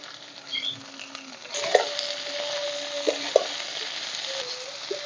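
Eggplant, ridge gourd, radish, potato and pumpkin stems sizzle in oil with onion, a steady broad hiss that swells louder partway through, with a few sharp clicks of a spatula stirring in the pan.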